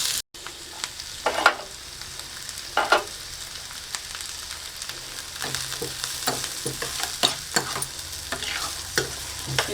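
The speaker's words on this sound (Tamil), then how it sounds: "நல்லா வெங்காயம் வதங்கட்டுங்க." Onions sautéing in a pan for jackfruit seed poriyal, with a steady soft sizzle and intermittent scraping stirs from a spoon, close and fairly quiet, with no talking.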